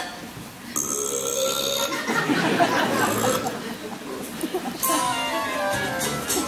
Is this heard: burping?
yes